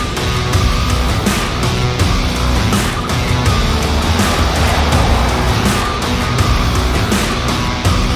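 A 2021 Cadillac XT4 Sport with a 2-litre turbocharged four-cylinder engine and nine-speed transmission drives along a road, a loud, steady roar of engine, tires and wind throughout.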